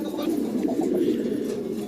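Native Bangladeshi deshi pigeons kept for about five years coo steadily, a dense low rolling murmur that carries through the whole moment, close and fairly loud with no voices.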